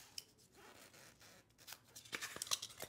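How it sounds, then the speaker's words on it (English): Foam core board being cut by hand with a blade around a small base, a series of short scraping, crunching cuts that grow denser and louder toward the end, close up with no talk. "So I'm just gonna cut all the way around here."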